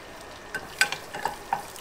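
Chicken cutlets fry in a pan coated with spray avocado oil, a steady low sizzle with a few light clicks and taps from stirring or turning, close by and without talk.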